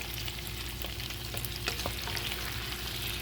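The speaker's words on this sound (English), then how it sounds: "I like to just cook it on one side and then sort of flip all the shrimp over" Shrimp sizzle steadily in a hot pan for shrimp scampi, a continuous close frying hiss with a few sharper crackles and spatters, no voices.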